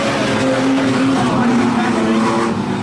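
Street stock race cars roaring around a speedway at Mothar Mountain, a continuous loud engine drone with shifting pitch as cars pass, under an announcer's excited commentary.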